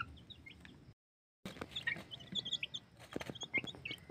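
Pet chicks cheep and cluck softly nearby in short, high, repeated chirps. The faint calls break off for a brief silence, then return more busily over low background noise.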